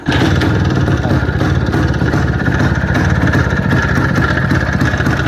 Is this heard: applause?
no